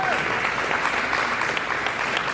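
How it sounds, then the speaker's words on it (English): Steady audience applause for a former mayor at an Indo-American community celebration of America's 250th Independence anniversary, a dense continuous wash of clapping filling the whole stretch at even loudness. "please give a big round of applause to Lily May"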